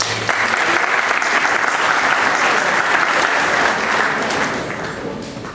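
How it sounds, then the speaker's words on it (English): A full room at the Negril Chamber of Commerce gala dinner gives a dense, steady round of applause that holds strong before easing off near the end. "ladies and gentlemen, please, a resounding round of applause"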